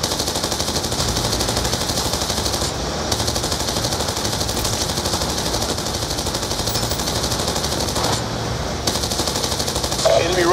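Sustained machine-gun fire in the video game Call of Duty Black Ops II, loud rapid bursts running almost continuously, with radio-style voices talking over the combat.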